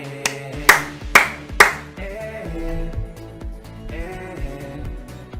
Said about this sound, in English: Clapping, clapping, clapping,